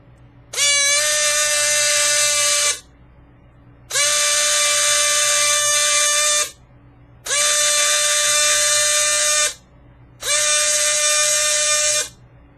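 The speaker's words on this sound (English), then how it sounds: "you won't be able to see it spinning, but you'll hear the motor in the microphone I have right here." A small electric motor from an RMA'd device whirs steadily whenever its trigger contacts are connected, giving four loud, even bursts of two to three seconds each with brief silences between.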